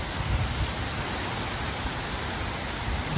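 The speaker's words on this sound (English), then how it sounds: "You can see the thunderstorm is here. It's absolutely hammering it down now." Heavy thunderstorm rain pours down in a loud, unbroken hiss, steady and close throughout.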